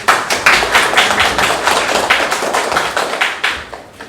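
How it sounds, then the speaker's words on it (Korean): Applause for presenters at an academic social studies education conference, a roomful of people clapping briskly and loudly nearby, with sharp individual claps standing out, then slowly thinning toward the end. "발표와 질문해주신 두 분께 다시 한번 박수 부탁드리겠습니다."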